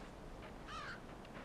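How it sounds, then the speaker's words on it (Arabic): A crow in the video game Limbo gives a single harsh caw over a steady low ambient rumble, close and clear, with no voices. "ايه ده لا ده غراب"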